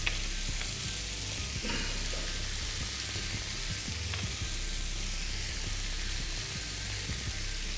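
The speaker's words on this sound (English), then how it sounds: "We're going to put in our mince. Put it in our spices." Mince cooks with spices in a hot pan, giving a dense, constant, loud sizzle with a few faint stirring knocks underneath and no talking.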